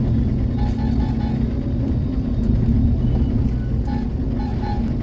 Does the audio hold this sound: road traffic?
yes